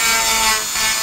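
Dremel rotary tool trimming a body part on a Nissan 240SX, a close, steady high-pitched grinding whir that holds for about a second with a slight dip partway through.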